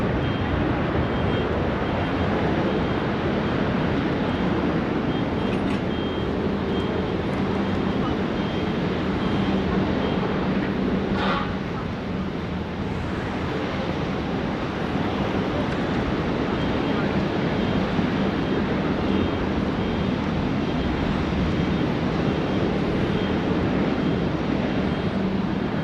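Fiji Airways flight 910, bound for Nadi, takes off from Sydney Airport, its engines a loud, steady broadband roar throughout, with wind buffeting the microphone.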